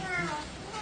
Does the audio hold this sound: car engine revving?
no